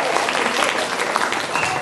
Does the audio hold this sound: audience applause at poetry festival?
yes